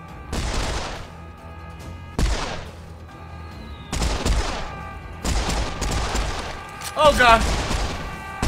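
Heavy gunfire in the shooter game Serious Sam 4 comes in loud, separate bursts every second or two. A voice speaks briefly between the volleys.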